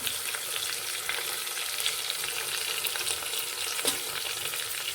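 Green chili fries in a pan with coriander and mint for a ghee rice and chicken curry, making a steady, close sizzle with light stirring and no voices.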